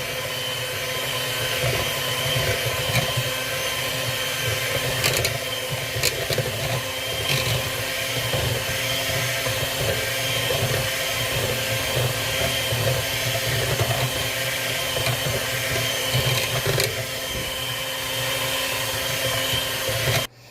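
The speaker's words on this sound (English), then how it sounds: "I'll do that until all 4 eggs have been whipped and blended in the butter." A hand mixer whips four eggs into butter for a chocolate pound cake made from a box mix, giving a continuous loud motor whir with faint clicks of beaters on the bowl.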